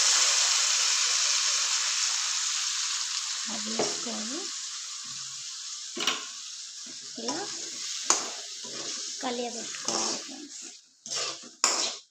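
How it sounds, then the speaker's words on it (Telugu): Tamarind broth poured into a hot tempering for tamarind-peel chutney sets off a loud sizzle, then a series of scraping stirs and clinks in the pan. Low crackling fades beneath bursts of stirring, with no voices. "మనం ఇప్పుడు ఈ పులుసుని ఈ పోపులో వేసుకోవాలి"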